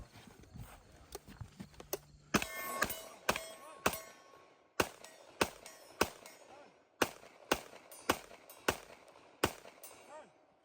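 Gunshots ring out during a practical shooting match, sharp loud reports in quick series with short pauses between strings, echoing over outdoor background noise.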